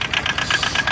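A 2019 Aixam Minauto microcar engine idling steadily with a rhythmic, rattly pulse, close and continuous with no talking.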